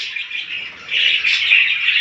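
Budgerigars chirp and twitter in home breeding cages, a dense, continuous, high-pitched chatter from several birds, close and fairly loud, growing busier partway through.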